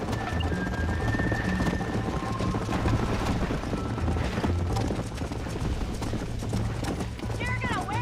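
Rapid clip-clop of galloping horse hooves in the video game Red Dead Redemption, loud and steady, with voices shouting over the pounding rhythm and a brief whinny near the end.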